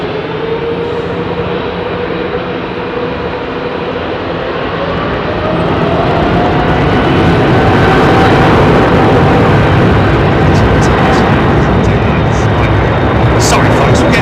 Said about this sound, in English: Sound like a 747, doesn't it? CF6 engines.